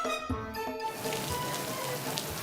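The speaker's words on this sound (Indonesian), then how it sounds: "Mana hujan lagi." Steady rain falling on a surface, a dense continuous patter that fades in beneath a fading musical tone and then carries on alone, fairly close and moderately loud.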